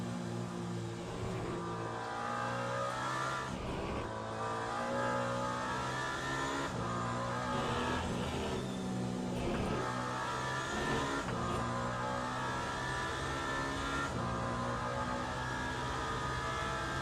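A hypercar engine in a racing video game revs hard and continuously, with repeated upshifts briefly breaking the loud, steady roar.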